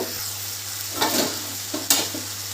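Spices stirred with Malabar spinach stalks and split peas in a hot frying pan, a continuous sizzle close by with a few scraping strokes of the spatula under a low steady hum.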